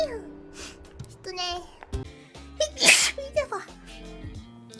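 A single sharp sneeze breaks out amid lively, animated speech, with more chatter following it.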